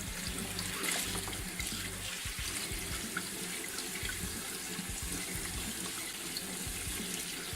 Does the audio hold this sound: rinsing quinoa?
yes